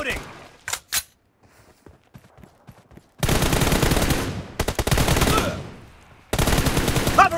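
Automatic weapon fire in a PUBG Mobile one-on-one room match, loud rapid bursts cutting in and stopping abruptly, after a quieter stretch of clicks and a few single shots.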